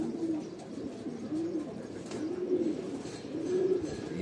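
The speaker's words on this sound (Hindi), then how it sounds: "ये कबूतरी देखिए" Pigeon cooing in a loft, a Kalsara hen bird, giving four soft rolling coos spaced about a second apart, close and steady over a low background hum.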